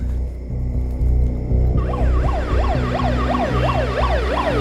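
An ambulance siren wails in rising and falling sweeps, starting partway through and continuing steadily over a low droning background.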